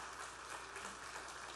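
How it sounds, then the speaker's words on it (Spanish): Church congregation applauding during a sermon, a steady wash of many hands clapping at a moderate, fairly distant level throughout. "Merece un aplauso esto."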